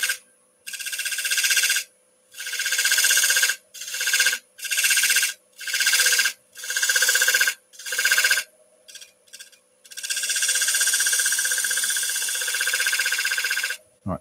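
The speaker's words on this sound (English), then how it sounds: "I'm going to use the signature skew just to scrape some small V's in." A skew chisel scrapes small V's into a spinning wooden bowl on a lathe, giving repeated high, steady rasping passes separated by short pauses, then one long sustained scrape, close and clear.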